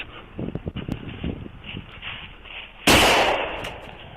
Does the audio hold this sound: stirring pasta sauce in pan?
no